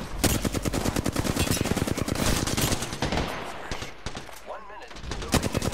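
Sustained automatic gunfire in Apex Legends, a loud, dense rapid stream of shots that hammers steadily, thins briefly toward the end, then picks back up, with a voice partly audible underneath.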